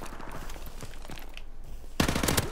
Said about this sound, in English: This is a G3, I gotta remember. It's a single fire.